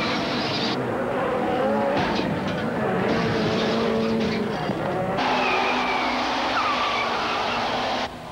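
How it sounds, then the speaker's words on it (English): Race cars roar past in a continuous, loud engine din with shifting pitches and occasional tire squeal, as the cars chase and try to bump the one in front during a watched racing game. "The cars are chasing each other, trying to catch up and bump the one in front."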